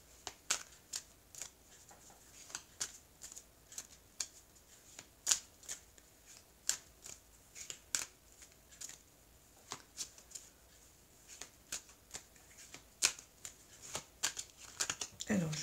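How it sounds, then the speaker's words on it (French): Oracle cards being shuffled and cut by hand, giving a steady run of crisp riffling snaps and flicks close up, with quiet pauses between bursts and no other sound over them. "je vais couper et je vais tailler les cartes"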